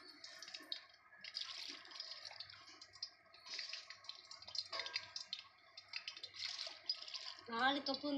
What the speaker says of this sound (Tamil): டால்டாவோட வந்துட்டு அண்ணா ஆயில் ஊத்துறாங்க